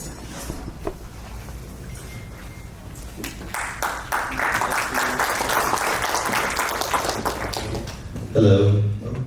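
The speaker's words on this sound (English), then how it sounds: "Can we have another round of applause for Aziza?" Applause from an audience at a tech seminar builds from scattered claps into a fuller round, with some voices and a brief loud sound near the end.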